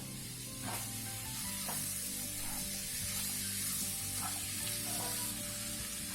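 Green pav bhaji mixture of tomato and spinach puree sizzling steadily in a pan, close and continuous, with a few soft scrapes of stirring over the constant frying hiss.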